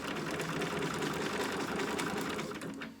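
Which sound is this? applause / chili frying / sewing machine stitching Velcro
sewing machine stitching Velcro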